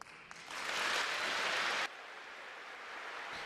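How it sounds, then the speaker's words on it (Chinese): Warm applause at a former Australian prime minister's funeral for Cate Blanchett's speech, a steady wash of clapping that swells and then stops abruptly, leaving quiet room tone. "简单的几句话赢得热烈掌声"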